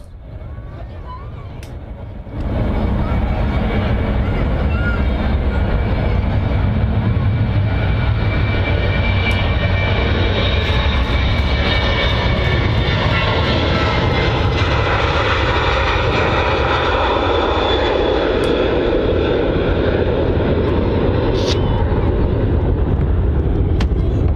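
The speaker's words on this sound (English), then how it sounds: "Ryanair 737. No, it's going out." A Ryanair Boeing 737 jet departing Manchester Airport roars loudly and steadily close by, its broadband engine noise swelling after a quiet start and holding strong throughout, with voices talking over it.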